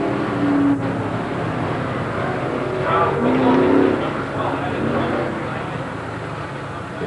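Pro Stock and Sportsman race cars at Merrittville Speedway in 1989 roar along the front straightaway at about 90 mph in a continuous engine drone that swells as they pass. Crowd noise and talk sit underneath.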